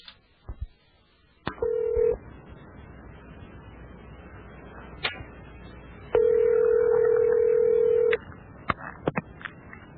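Telephone call being placed: a short keypad tone, then long steady ringback tones with a few sharp clicks in between, clear and fairly loud, with no talk.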